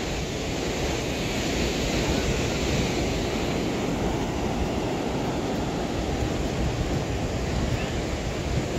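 Rough sea surf rolling onto the wide sand of Mayaro Beach, Trinidad, a loud, steady roar of breaking waves mixed with strong wind buffeting the microphone throughout.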